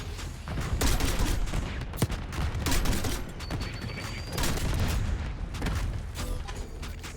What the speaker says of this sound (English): I really just exploded myself with that